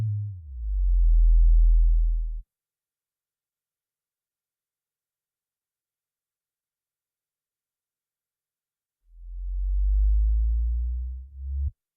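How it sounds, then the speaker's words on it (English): A low, pure sine-wave synthesizer tone from Native Instruments Massive, modulated by an envelope, swells in and cuts off, then after long silence another lower sine tone fades in and stops. "oscillator 2 is going to be simply a sine wave, which is also being modulated by envelope 1"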